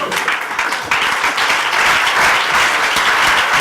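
Loud, dense applause from an audience at an awards ceremony, honoring the CTS director general in Strasbourg: sustained rapid clapping from many hands throughout, with no talk.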